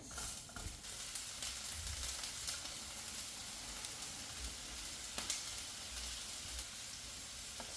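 Onions sizzling in a pan for a quesadilla, a soft, steady frying crackle at a quiet level, with a few faint clicks of a utensil scattered through it.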